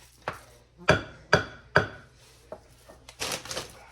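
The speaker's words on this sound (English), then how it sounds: "I'm just going to put it in the muffin tin with a teaspoon" A teaspoon taps and scrapes appetizer mixture into a muffin tin, giving about five sharp, close clinks spaced irregularly, with a louder cluster of scraping knocks near the end.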